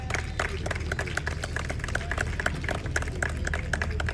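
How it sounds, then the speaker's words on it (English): An audience claps at a political speech in a hall, a dense, steady patter of many hands sustained throughout under a low background hum. "I'm happy you clapped,"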